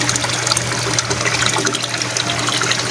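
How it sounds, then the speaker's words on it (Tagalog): Water pours and gushes steadily into a tank set up for berried crayfish, a continuous splashing stream, close and fairly loud, with a low hum underneath. "Tsaka lalagyan natin ng konting tubig."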